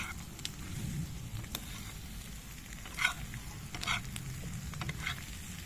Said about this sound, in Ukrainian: Картошечка з яєчками в сковорідці.